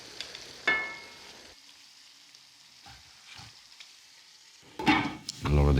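Tomatoes, peppers and mushrooms tipped into a hot pan with white wine for chicken cacciatore, giving a soft sizzle and a few stirring scrapes, with a louder clatter and splash of ingredients near the end.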